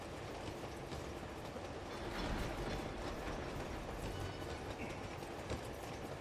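Train rolling along the tracks in the Uncharted 2 video game, a dense continuous rumble with rattling, clacking wheels and metallic clanks throughout.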